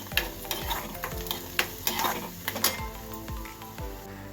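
Onion with fresh coriander being stirred and sautéed in a pan for a pea-pod vegetable dish: a soft sizzle under repeated scraping strokes and light clinks of a spatula against the pan, close and fairly quiet.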